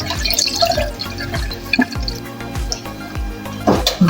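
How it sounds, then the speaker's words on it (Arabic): Water is poured into a pot in a home kitchen, with close splashes and irregular drips and a few louder spills over about four seconds. "عم نكب الميات."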